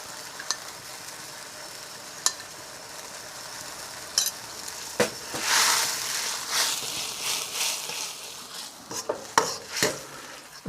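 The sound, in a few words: stirring corn and potato starch slurry into reduced sauce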